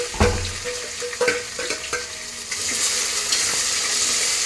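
Onions and kasuri methi fry in a pan for biryani, giving a steady sizzle punctuated by scraping stirs and clinks of a spoon, close and fairly loud.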